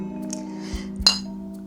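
Glasses of freshly opened cold beer clink together in a toast, one bright, close chink standing out briefly over a steady low hum, with a couple of soft knocks just before.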